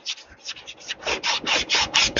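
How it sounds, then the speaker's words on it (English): Sandpaper rubs back and forth on a small Duromax engine starter part, a steady series of about a dozen close, rhythmic rasping strokes growing slightly louder and quicker. "Let's go around and sand it."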